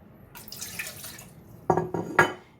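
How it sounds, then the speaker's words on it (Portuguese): Water poured into a container in a tabletop experiment, a soft trickle followed by three louder splashing bursts near the end, close and alone. "Então eu coloquei 100 ml de água em um dos recipientes, vou colocar outros 100 ml no outro recipiente."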